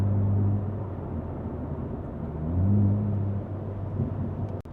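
A BMW G8X M3/M4 with a DCE hybrid exhaust, valves open in Drive Logic mode, gives a steady low rumbling drone that swells briefly midway before settling back, close and fairly loud.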